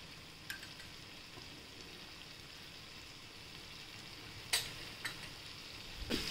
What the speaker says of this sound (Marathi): छान हलवून घेऊ, परतून घेऊ त्याला